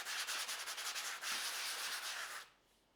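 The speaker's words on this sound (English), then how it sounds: "you can always take another piece of sanding paper and just give it a quick brush" A sheet of sanding paper rubs briskly across a drywall sanding sponge in quick back-and-forth strokes, a dry close scratchy hiss lasting over two seconds before stopping abruptly, with no talking.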